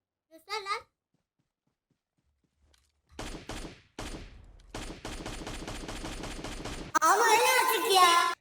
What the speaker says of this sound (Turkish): 50 tane mermi attım taşı arkasında oğlum.